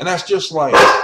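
A dog barks sharply indoors behind someone talking, its yips overlapping his voice at close range.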